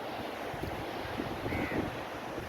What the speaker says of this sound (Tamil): அந்த பக்கம் அப்படியே பீச்சு, அப்படியே கடல், அமைதியான ஒரு அலை.